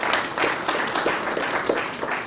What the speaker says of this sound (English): Please let's give NetOne a big round of applause.